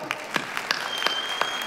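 Audience at a gathering of brain pacemaker patients, a Guinness record event, applauds the performers with scattered, distinct hand claps over a steady background of clapping.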